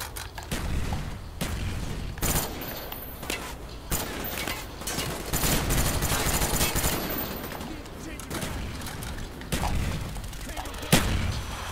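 Grenade blasts and rapid gunfire in Call of Duty Black Ops, dense bursts of shots and booming explosions throughout, loud and close, with a voice talking at times.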